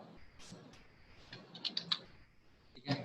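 Computer keyboard being typed on to enter a command, a few faint, close clicks in a short irregular run ending with a firmer keypress, in a quiet room with no talk.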